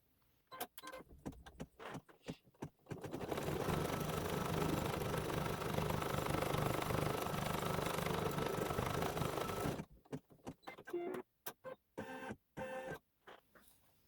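A sewing machine stitches a fabric tack-down on a quilt block, running continuously for several seconds with a steady mechanical whir, bracketed by clicks and handling noises before and after.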